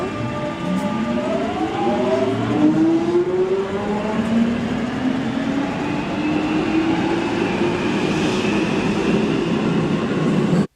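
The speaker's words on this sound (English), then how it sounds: "the trains that run on this line are called the 1996 stock" A London Underground 1996 stock train runs with a loud, sustained rumble and rising and falling whining motor tones that sweep upward and downward, heard up close from on board.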